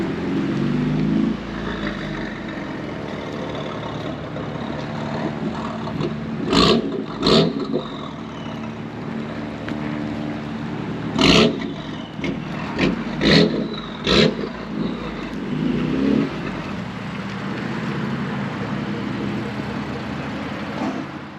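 A 2018 BMW F82 M4 rolls slowly into a parking spot with a low steady engine idle, broken by several sharp clicks and brief louder bursts partway through before settling back to a quiet hum.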